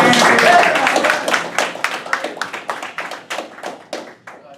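An audience at a political event claps, starting as a dense burst of applause and thinning into scattered individual claps that fade out over several seconds.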